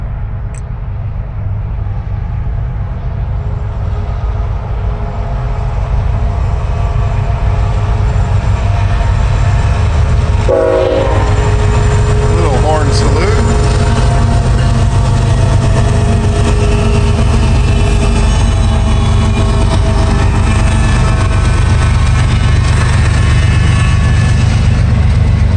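Freight train locomotive powering up and rolling by on a mixed freight line, a steady loud diesel drone and rail rumble throughout with a brief metallic clank partway through, no voices.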